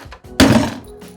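A gun lock box for a pistol shuts with one loud, close thunk, then its lock engages with a short muffled click in a quiet room.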